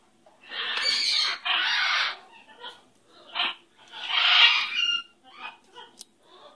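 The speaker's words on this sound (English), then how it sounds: "Pretty baby bird." A pet bird squawks in several loud, harsh bursts close by, with shorter chirps and calls between them and pauses of quiet.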